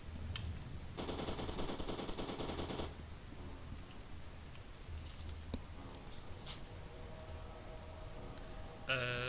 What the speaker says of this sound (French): Là c'est censé être un pistolet automatique.